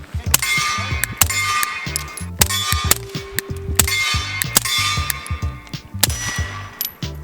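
Sharp metallic clangs ring out repeatedly as bullets from a CZ P-07 pistol strike a steel plate, each impact loud and bright over muffled suppressed shots, with several hits in quick succession.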